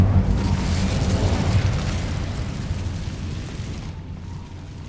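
A fire spell cast in the Hogwarts Legacy video game, a loud rushing whoosh with a deep rumble that holds steady for several seconds before thinning out at the end.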